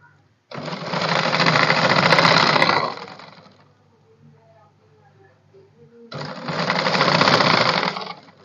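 A sewing machine stitches a shirt pocket, two loud steady bursts of motor whir several seconds apart with a quiet pause of faint handling noise between them.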